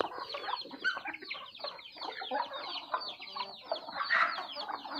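Chickens cluck and chatter continuously close by, a busy flock of overlapping calls with no talking.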